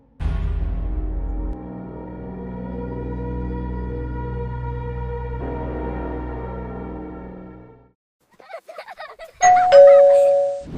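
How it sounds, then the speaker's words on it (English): A doorbell chimes in a long ringing ding-dong with sustained tones that slowly fade, followed by a few faint clicks and then a brighter, louder chime. "And then the doorbell rang."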